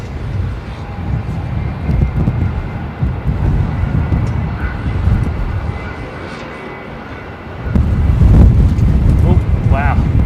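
Strong gusts buffet an outdoor microphone at Melbourne Airport, making a loud, rumbling roar that dips briefly and then surges again, with people talking over it.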